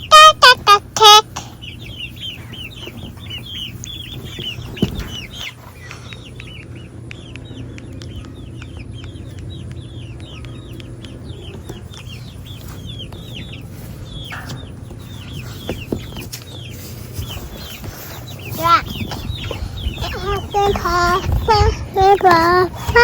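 Chickens in a chicken tractor cluck and chirp in quick, repeated high calls, moderately close and continuous over a low background hum, with people talking briefly near the start and end.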